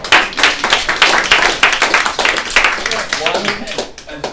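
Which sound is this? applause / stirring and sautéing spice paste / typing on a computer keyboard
applause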